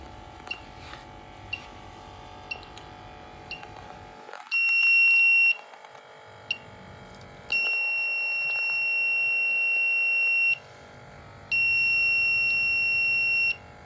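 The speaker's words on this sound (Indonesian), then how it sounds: "sensor buzzer atau alarm berbunyi secara kencang karena sudah diatur di mana ketika ketinggian air itu di atas 18 cm" Piercing electronic buzzer alarm from an ultrasonic water level monitor, triggered as water rises past 18 cm, sounding in three loud sustained blasts of roughly one to three seconds each over a quiet room hum, with small clicks before them.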